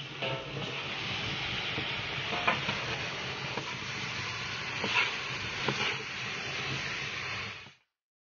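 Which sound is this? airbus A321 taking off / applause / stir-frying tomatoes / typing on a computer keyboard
stir-frying tomatoes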